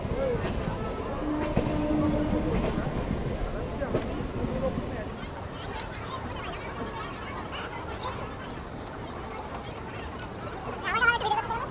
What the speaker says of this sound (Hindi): फिलहाल हमारी ट्रेन स्लोली स्किप कर रही है दमदम जंक्शन।